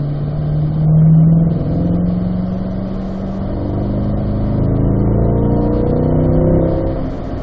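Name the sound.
Chevrolet Corvette C8 driving on racetrack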